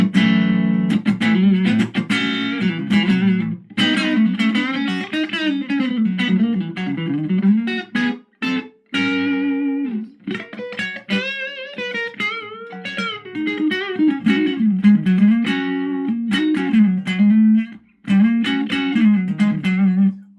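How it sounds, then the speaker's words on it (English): A 1973 Gibson Les Paul Deluxe electric guitar on its neck pickup plays a clean, warm melodic line with fluid note runs and short pauses, loud and close, no voices. "let's demo this neck pickup"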